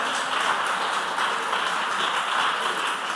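An audience at a junior high school quiz semi-final gives a steady round of applause for Emmanuel Methodist Junior High School, a dense, even patter of many hands clapping throughout.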